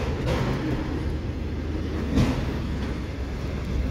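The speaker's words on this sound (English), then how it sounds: "It's a surefire sound that the train is about to clear the crossing when those couplers get thrown up in the air like that." Freight train couplers clank as a northbound BNSF-led mixed manifest train clears a grade crossing, with a sharp metallic bang near the middle over a continuous rolling rumble of railcars close by.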